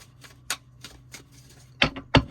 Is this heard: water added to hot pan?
no